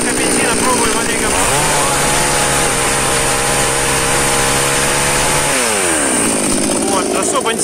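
A new gasoline chainsaw bought from Ozon runs loudly and close during its break-in, outdoors after dark, idling steadily then revving up and dropping back down.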